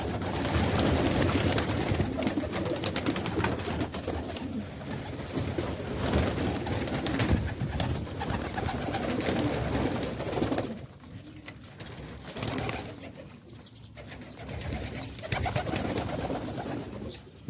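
Pigeons coo steadily in a breeding loft in Quetta, Pakistan, where the birds are laying eggs. Many overlapping calls form a dense, continuous chorus that eases briefly toward the middle before building again.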